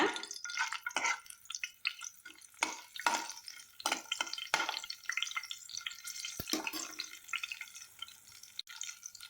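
Green chillies fry in a pan, crackling and spitting in irregular bursts of popping sizzle, close and fairly lively throughout.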